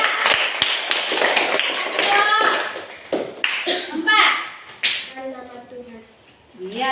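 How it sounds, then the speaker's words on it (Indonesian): Children in a church-school classroom in Ambon clap for a group of classmates, sharp taps and claps scattered among excited young voices and chatter. "tepuk tangan untuk kelompok 3"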